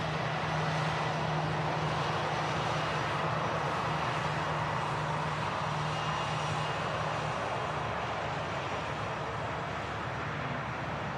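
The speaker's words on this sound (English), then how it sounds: "Taxiing past now is an EasyJet A320." An EasyJet Airbus A320 taxis past at Manchester Airport, its engines producing a continuous, loud, broad roar with a low droning hum that stays steady from start to finish, with no talking.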